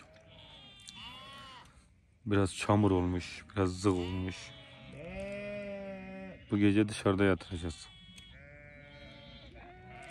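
Sheep in a mountain flock bleat loudly in a couple of clustered bursts, with someone talking calmly in Turkish between and over the calls.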